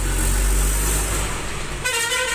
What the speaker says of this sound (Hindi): हमारा जो पास में ही हाईवे रोड है, यहाँ पे तुम्हें पता ही है कि ट्रैफिक है, तो उसकी जो है साउंड आ रही है बाहर से